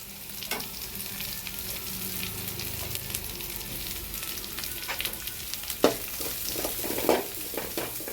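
Onion, grated carrot and cabbage sauté in a pan with a steady crackling sizzle, broken by scraping spatula strokes and a sharper clatter about two thirds through.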